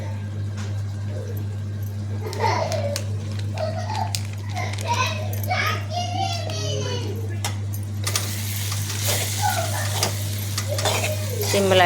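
Chicken masala and tomato frying in a pan with spoon stirring, a steady close sizzle running throughout and growing brighter near the end, with children's voices and chatter in the background.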